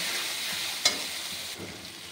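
Bengali spice paste with turmeric and salt sizzling steadily in a pan, with a single sharp scrape of stirring and a soft shuffle of the spoon later.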